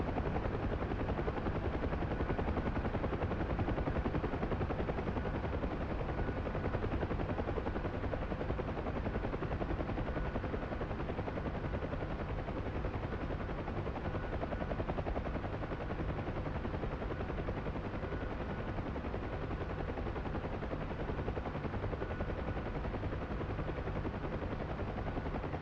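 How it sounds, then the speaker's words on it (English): An Mi-24 helicopter in a video game, a constant loud rotor drone with bursts of gunfire mixed into the steady roar and no talking, lasting throughout. "It's an MI-24 is what it is"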